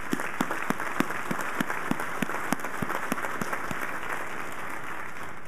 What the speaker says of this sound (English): I'd really like to give him a round of applause.